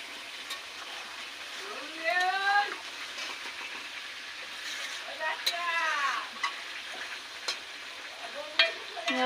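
Prawns frying with Malabar spinach curry in a pan, a soft continuous sizzle under intermittent chirping birdsong, with no talk.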